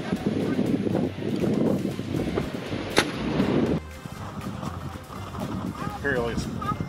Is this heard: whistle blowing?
no